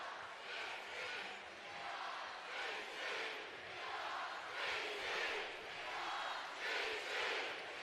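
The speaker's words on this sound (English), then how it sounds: "And you can hear the crowd right now. They love it." A high school basketball crowd at a state championship game cheers and chants in rhythmic waves, a distant, roomy roar rising and falling steadily across the gym.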